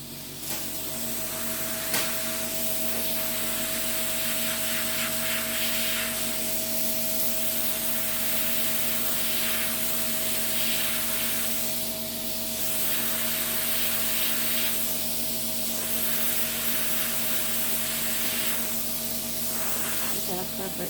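A file rasping over a callus on a foot, rhythmic scraping strokes repeating across twenty seconds over a constant electrical hum, close and fairly quiet.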